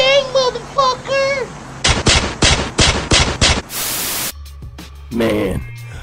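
Cartoon gunfire: a rapid, loud burst of about six shots follows a voice, then a hiss of static and more talking.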